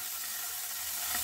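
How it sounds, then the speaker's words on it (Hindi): Paneer cubes hiss and sizzle in a hot pan with a steady, close frying crackle that runs throughout. "पैन हमारा गरम है और अब हम इसमें डालेंगे पनीर के ये क्यूब"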